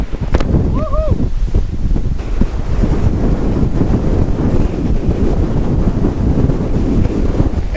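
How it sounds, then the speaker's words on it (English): A strong headwind batters a Fairline Squadron 68 motor yacht at sea, a loud continuous gusting rush over the microphone with the hull's water noise beneath. A short whooping voice cuts in near the start. "We're blasting straight into a headwind here."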